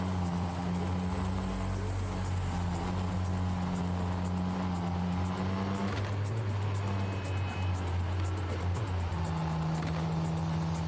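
A car engine in the video game Neverness to Everness gives a steady drone with a rising pitch that drops abruptly mid-way as the gear shifts, then climbs again, loud and continuous.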